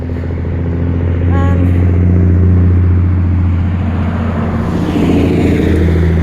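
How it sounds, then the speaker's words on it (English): Road traffic rumbling steadily and loud nearby, with a motor vehicle's engine droning and swelling as it passes, filling the whole stretch. "Sorry, traffic noise. More traffic."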